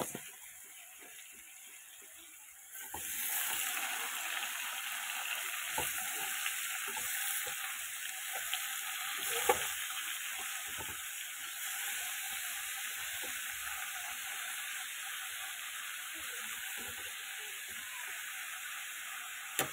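Spinach with salt and turmeric cooking in a pan, quiet at first, then a steady soft hissing simmer with occasional faint clicks and stirs, no talk.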